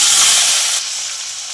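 Chopped tomato with cardamom, cinnamon, torn chili and bay leaf fries in hot oil as a loud, dense hiss, easing slightly partway through.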